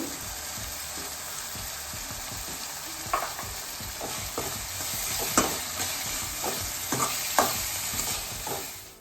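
Salt and turmeric powder frying in a pan for Rajasthani dal kadubu, a steady close sizzle with a spoon stirring and scraping in irregular clicks, no talking.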